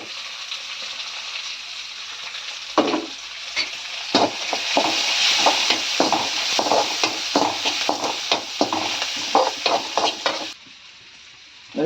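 Chopped onions sizzle and fry in a pan for a home-cooked curry, with a steady hiss broken by repeated scraping stirs of a spatula, close and clear, with no talking.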